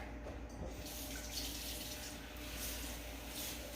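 Water runs steadily from a kitchen tap to rinse brine off food. It makes a continuous, fairly soft splash and hiss with no talking.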